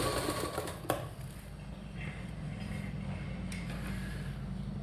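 Sewing machine stitching a border onto a puff sleeve, a steady close mechanical whir running throughout with a brief sharp click near the start.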